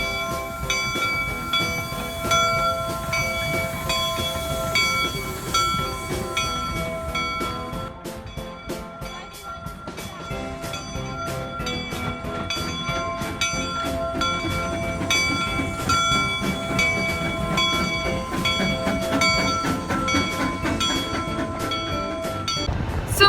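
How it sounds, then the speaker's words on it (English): Steam train passing through open country, heard as a long, steady rumble of wheels with rhythmic clacking over rail joints and ringing metallic tones, loud and close throughout with no talking. "I love steam engines."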